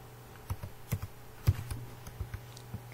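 Sparse keystrokes on a computer keyboard tap out a few short, irregular clicks at close range in a quiet room, with no talking.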